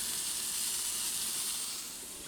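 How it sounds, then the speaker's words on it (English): A kimchi Italian sausage burger patty sizzles in a hot pan, a steady, close, bright hiss of frying that holds evenly and fades slightly at the end, with no talk. "you'll hear that as I place it in, it'll start to sizzle"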